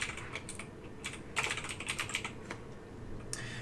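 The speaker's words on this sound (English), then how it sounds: "So that in the detailed targeting section, I'm going to start by typing in entrepreneurs." Typing on a computer keyboard, a quick irregular run of light plastic key clicks close by, with no one speaking over it.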